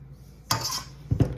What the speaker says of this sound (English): And then I get a fork